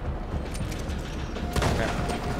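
Video game gunfire crackles in a dense, continuous burst, with a louder cluster of shots about two-thirds through, over a busy game soundscape.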